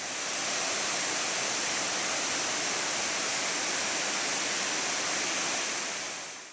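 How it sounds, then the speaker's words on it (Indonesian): Lae Silebu waterfall in Aceh Singkil, plunging into a pool before flowing on to a river, gives a constant broadband roar, loud and close, swelling in and fading out. "Kolam yang menampung air terjun sebelum mengalir ke sungai menarik raga mencebur ke dalamnya."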